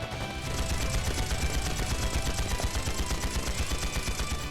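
Rapid automatic gunfire in the video game Trails into Reverie, a dense continuous rattle of shots that starts after a brief pause and keeps going at a steady fast rhythm, fairly loud and without talk.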